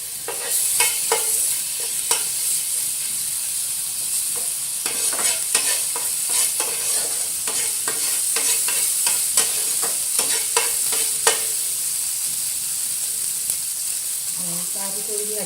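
Ginger sautés in two spoons of cooking oil, a continuous close sizzle broken by repeated scraping and stirring clicks from a utensil against the pan.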